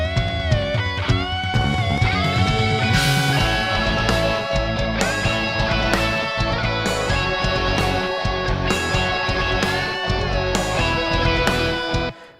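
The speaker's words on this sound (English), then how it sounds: "I'm playing the tune from the chorus on the guitar, and I've got four" A guitar plays the chorus tune with four-part harmonies layered above it, giving dense, sustained chords. The notes ring out loud and continuous for about twelve seconds and then fade out abruptly.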